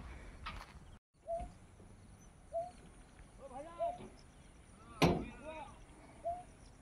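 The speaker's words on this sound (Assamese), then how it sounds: "নীৰৱে মনে মনে শুনকচোন এটা চৰাই চিঞৰি আছে চৰাই মাতটো শুনিছেনে" A bird calls outdoors near a bridge at dusk, several short chirping whistles repeating at intervals over a low, steady background, with one louder sharp burst partway through.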